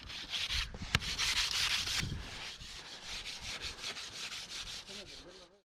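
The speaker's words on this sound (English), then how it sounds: "we always go by and hit it again with the broom, floats, just clean it up, get it real pretty" Broom and float scraping across a freshly poured concrete back patio with a step, a continuous close rasping rub with steady back-and-forth strokes and a sharp knock near the start.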